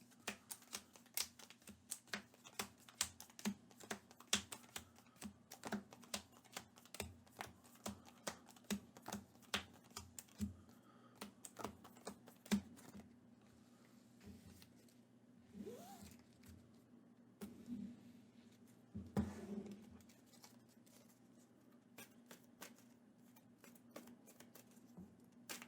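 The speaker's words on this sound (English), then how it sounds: "so I'm going to shuffle these" A deck of Marvel Champions playing cards being shuffled by hand at a table, rapid close riffling clicks and flutters in quick bursts with short pauses, fairly quiet and with no voices.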